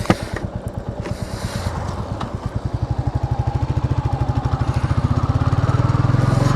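Motorcycle ridden along the Kalyani highway, its engine pulsing in a steady rapid rhythm that climbs gradually in pitch and loudness as it accelerates, close and continuous with wind rush and no talk.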